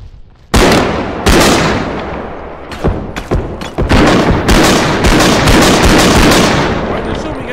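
Gunfire in the BodyCam shooter game: loud, close bursts of shots in quick succession, some single cracks and some rapid clusters, sharp and punchy over about seven seconds.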